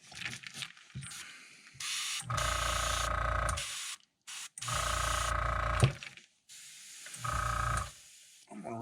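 An airbrush sprays pearl paint at low pressure onto a custom-painted gizzard shad glide bait crankbait, giving three steady hissing bursts of a second or two each, separated by short pauses and faint handling noise, with no talk.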